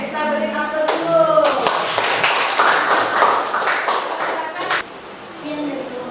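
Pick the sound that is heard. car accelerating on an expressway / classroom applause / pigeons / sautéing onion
classroom applause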